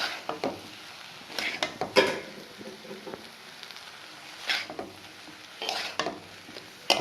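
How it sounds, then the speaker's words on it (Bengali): Cooked rice stirred into vegetables in a pan for restaurant-style fried rice: intermittent close scraping and tossing strokes over a low sizzle, a handful of louder bursts spaced irregularly, no voices. "এই ভাতটাকে এর সাথে মিশিয়ে দেবো ভালো করে মিশিয়ে দিই"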